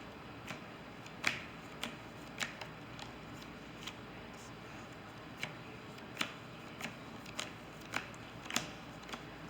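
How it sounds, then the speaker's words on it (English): A deck of trading cards is power shuffled, a quiet run of crisp card snaps and flicks recurring roughly every half second to second, close and alone. "Let me power shuffle my deck."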